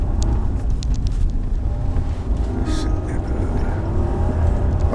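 A Rolls Royce Cullinan accelerates on snow and ice during winter driving in Scandinavia, its engine a steady low drone mixed with tyre and wind rumble inside the cabin, continuous and fairly loud throughout.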